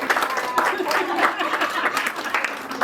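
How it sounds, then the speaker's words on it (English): An audience at a couples' candlelight dinner claps for the event organizer, a dense patter of applause with some chuckles and voices mixed in. "We need to clap hands for him."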